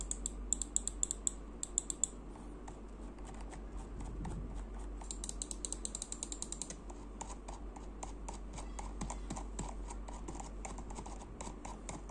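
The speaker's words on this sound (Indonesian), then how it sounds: "Untuk click force-nya sih lumayan lah." Gaming mouse buttons are clicked in quick, crisp bursts of sharp ticks, close and fairly faint over a quiet room, with clusters of rapid clicks separated by pauses.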